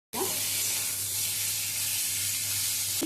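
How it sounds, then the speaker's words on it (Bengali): Ridge gourd with turmeric frying in oil, a dense, even sizzle that starts abruptly and holds steady for a few seconds, close and fairly loud with no talking. "হলুদ গুঁড়ো দিয়ে ঝিঙেটা ভেজে নেব।"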